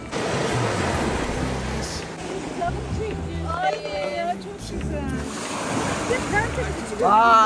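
Surf breaking on a seashore on a calm, windless day, a steady wash of waves rolling in, close and fairly loud, with faint voices now and then in the background.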